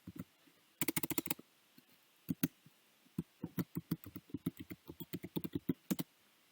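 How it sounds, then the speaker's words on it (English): A password typed on a computer keyboard: a quick burst of keystrokes, a few scattered taps, then a steady run of close, fairly quiet clicks. "So here I type in my password for my NetID."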